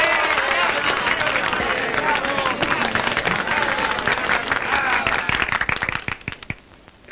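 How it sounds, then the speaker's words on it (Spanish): Hall of comrades clapping for a fellow worker honored at a meeting, dense applause mixed with crowd murmur and voices, tapering into scattered claps near the end. "pido un aplauso para ese hombre, nuestro compañero Gregorio del Prado"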